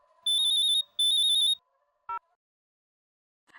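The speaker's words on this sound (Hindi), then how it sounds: "कब से आपका फोन बजे जा रहा है?" A mobile phone's ringtone chirps in two quick bursts of repeated electronic trills, followed by a short lower beep, then silence in a quiet room.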